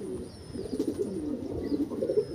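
Najra Madras pigeons in a loft give low, rolling coos, a steady murmuring burble that swells in a few soft pulses, close by and alone with no talking.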